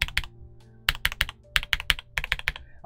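Clacky keystrokes on a Drop CSTM65 mechanical keyboard, typed in quick bursts with short pauses between, close and crisp with no talking.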